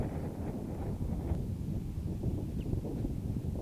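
Low, faint buffeting of wind gusting across an outdoor disc golf course at Circle Bar, a steady muffled rumble against the microphone with no distinct events.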